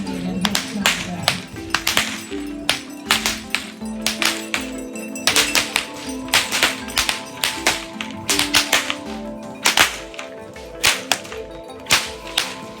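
A Hungarian horseman cracks a whip over and over, each sharp report snapping out in an irregular, rapid series that keeps going for more than twelve seconds.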